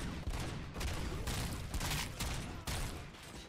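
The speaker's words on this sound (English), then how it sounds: "why are you shooting me?" Gunfire in a Robocop video game, a dense, continuous burst of shooting with repeated heavy volleys, fairly loud and without talk.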